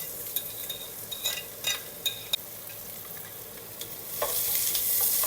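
Chopped onion stirred and sautéing in a pan over low flame, giving soft intermittent scrapes and clinks of stirring over a faint sizzle that swells louder and steadier near the end.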